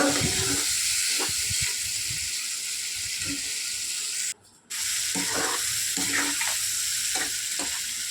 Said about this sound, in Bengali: মশলাটার সঙ্গে চিংড়ি মাছটা কষানোর সময়